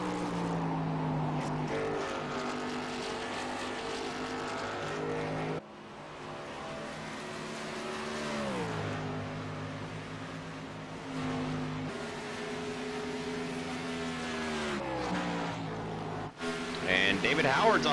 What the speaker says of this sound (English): you can see Max Terrio gaining a little bit of ground on him every lap.